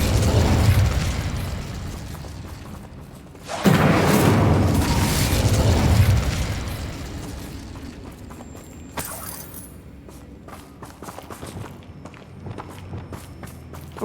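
Incendio fire spells exploding in combat in Hogwarts Legacy, a video game: a loud burst at the start, a second heavy whooshing blast around the middle, then quieter crackles and clatter fading under light game sounds.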